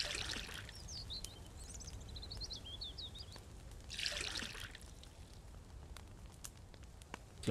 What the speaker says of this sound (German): Also, rein mit dem Wasser.